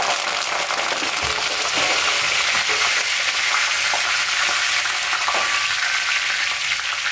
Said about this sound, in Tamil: நல்லா சோம்பும் வெந்தயமும் பொரிஞ்சிருச்சு கூட கருவேப்பிலையை போட்டுக்கலாம்